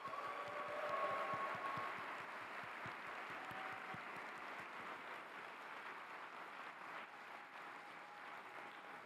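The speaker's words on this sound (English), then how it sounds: "Let's give them a round of applause." Audience applause fills a hall at a developer conference: soft, dense clapping that swells early and then carries on evenly at a moderate, somewhat distant level.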